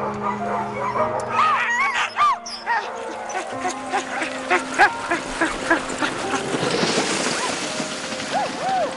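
Sled dogs in Wyoming barking and yipping before a run: an excited pack giving overlapping high yips, whines and barks, close and continuous, some howl-like rising calls.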